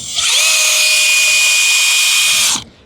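A high-pitched hammer drill whines steadily for about two seconds at close range, then spins down and stops.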